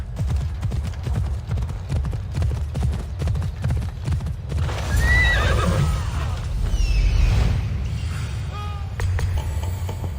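In Assassin's Creed Odyssey, horse hooves clip-clop steadily, then a loud whinny rings out, followed by more neighing and snorting over the hoofbeats.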